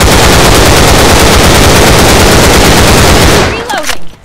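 An AK rifle in the shooter game Line of Sight fires a long, loud, rapid automatic burst that runs for several seconds, then stops abruptly with a short fading echo.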